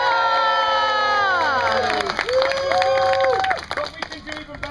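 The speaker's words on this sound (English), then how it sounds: "I am William Shakespeare, and you may cheer now!" A Renaissance Faire crowd at an outdoor Shakespeare show roars with cheering, shouting and clapping, loud and dense, while a voice rises in sustained, dramatic shouts over the noise.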